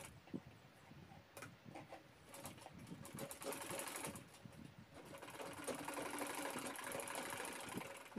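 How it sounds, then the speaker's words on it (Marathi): A sewing machine runs steadily while stitching the final seam of a fabric shopping bag, a continuous close mechanical whir that builds slightly louder toward the end, with no talking over it. "ही लास्ट शिलाई आहे बॅगेची."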